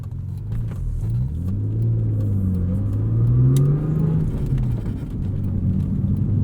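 A modified 2001 Audi S4's engine and drivetrain whine rises and falls in pitch as it accelerates through gears, steady and close, with no talking.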